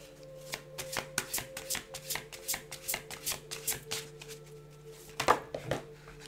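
A tarot deck is shuffled by hand in a series of quick riffling, slapping bursts close by with a steady rhythm, no talking over it.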